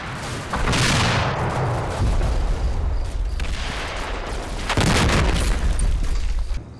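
Enemy mortar fire in Combat Mission: Red Thunder lands as heavy booming blasts with long rumbling tails, a couple of big impacts plus smaller bursts rolling across the battlefield, loud and continuous with no voices.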